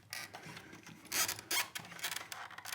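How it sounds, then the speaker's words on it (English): A tiny screwdriver works screws out of a Bandai handheld game, making faint, close scraping and rasping sounds with a few small clicks over a quiet room. "Let's use another tiny screwdriver here"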